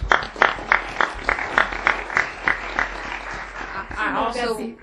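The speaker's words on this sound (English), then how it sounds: "you deserve a great round of applause" Round of applause from an audience at a state education board meeting, a series of regular claps with speech-like voices over the end as someone begins talking.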